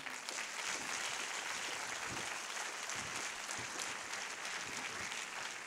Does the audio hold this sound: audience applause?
yes